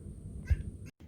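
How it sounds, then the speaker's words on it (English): A house cat gives a short, quiet meow close by in a calm indoor room, one brief call in the middle against low background hum. "my cat does apparently say hello"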